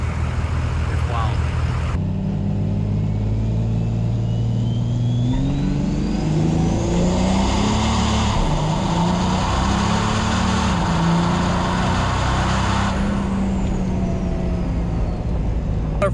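A diesel truck makes a drag racing run at a diesel event, its engine droning loud and steady, then climbing in pitch through several gear changes before easing off near the end, with crowd and track noise behind it.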